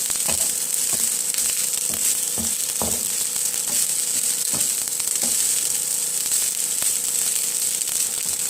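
Garlic sautés in a hot pan until it burns, giving a continuous, close, bright sizzle with scattered clicks and scraping stirs throughout.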